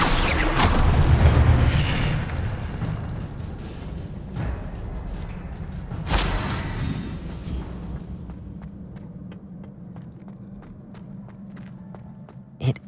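A fire spell cast in the video game Hogwarts Legacy erupts as a loud whooshing burst with booming impacts, then fades into a rumbling tail with scattered crackles and a sharp pop near the end.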